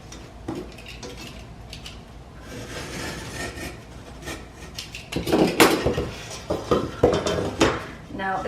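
Drywall being scored during a bedroom-to-bathroom renovation makes scratchy, repeated scraping strokes with small knocks and rattles, growing louder and more rhythmic toward the end.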